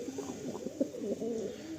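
Hazarwala breed pigeons give low, throaty cooing in a short run of rolling calls, close by and soft, with no other sound competing.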